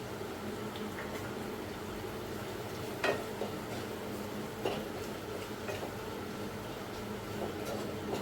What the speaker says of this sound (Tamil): வெங்காயம் சீக்கிரமா வதங்கிறதுக்கு கொஞ்சம் உப்பு போட்டு வதக்குனீங்கன்னா சீக்கிரமா வதங்கிடும்.